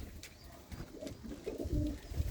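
Pigeons of fancy breeds kept in a loft coo softly in short low bursts, a few birds close by with quiet rustling between calls.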